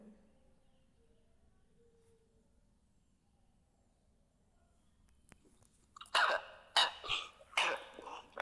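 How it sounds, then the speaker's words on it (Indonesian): After a quiet stretch, a series of loud, sharp coughs bursts out close by, four or five in quick succession. "Maaf, saya agak batuk-batuk, ini nggak enak badan ya."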